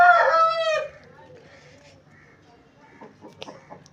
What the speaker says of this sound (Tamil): இங்கே ஒரு சேவல் இருக்குது, அங்கே ஒரு சேவல் இருக்குது.